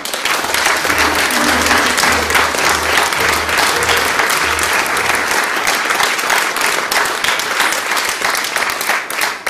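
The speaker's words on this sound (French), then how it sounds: "Sophie et Stéphane, que je vous demande d'applaudir" Dense, steady applause from a large theatre audience fills the whole stretch without letting up.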